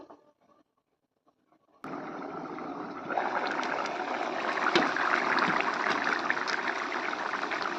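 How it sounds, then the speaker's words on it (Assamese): Matar ghugni, a pea curry with ground spice paste, boiling in a pot: a steady dense bubbling hiss starts abruptly after a near-silent moment and continues loud and close to the end, with no talk. "এতিয়া এয়া অকণমান উতলিবলৈ দিওঁ।"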